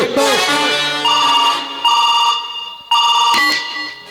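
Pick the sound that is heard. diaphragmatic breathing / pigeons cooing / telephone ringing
telephone ringing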